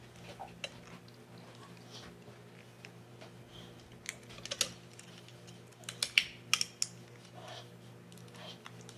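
Strong tape pulled and pressed to seal heart-decorated cellophane wrapped around ring pops, heard as a run of sharp crinkly crackles and tearing ticks, mostly in bursts near the end, close and fairly quiet over a steady low hum.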